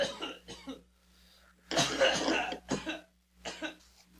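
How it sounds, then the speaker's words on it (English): A person coughs several times in short, rough bursts close to the microphone, with one longer heavy cough in the middle. "I'll edit out all this coughing in post."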